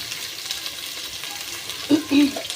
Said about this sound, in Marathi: कांदा कांदा आणि कढीपत्ता मिक्स घालते